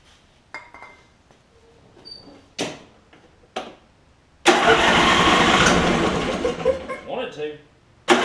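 An old MTD Craftsman PYT9000 riding mower that has sat unused for many years cranks after several tool clinks and short attempts, then catches and runs loudly for a few seconds, nearby and close to the mic.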